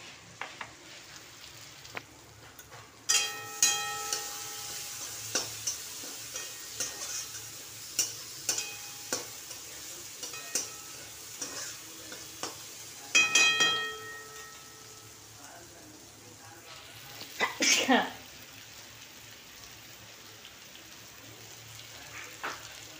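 Onion, tomato and potato hit hot oil in a pan for a cabbage curry, with sharp clatters of stirring and scraping over a constant soft sizzle, and bursts of louder frying sprinkled throughout.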